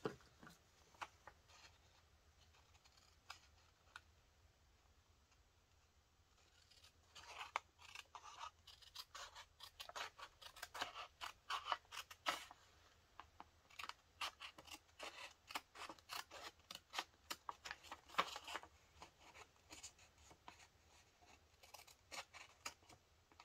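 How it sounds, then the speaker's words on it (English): Scissors fussy-cutting along a paper edge while making junk-journal pockets, heard as a run of small crisp snips and rasps close by, quiet at first and then busier and denser toward the end, with no talking. "I'll fussy cut off this edge though."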